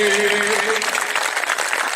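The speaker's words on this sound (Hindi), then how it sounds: "थोड़ी कमजोर तालियां इस बार आपकी।" Weak applause from an audience at a Jat community Diwali gathering in Greater Noida, a steady, fairly subdued clatter of clapping lasting the whole stretch, with a voice trailing off at the very start.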